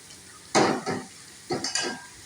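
Spiced potatoes for aloo bhujia are stirred in a pan with two bursts of scraping and light sizzle, close and fairly loud, separated by a quiet pause.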